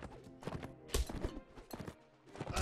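Horse hooves clopping in the video game Mount & Blade: Warband, a busy run of hoofbeats amid battle noise with several louder thumps, fairly close and steady over a couple of seconds.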